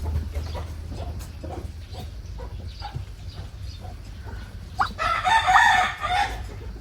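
Chickens at a rural home being fed rice cluck in short repeated bursts, then a rooster crows loudly near the end, with a faint low hum beneath.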